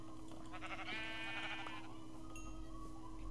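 Sheep in Minecraft giving a short, faint wavering bleat over a low background hum, heard alone without talk.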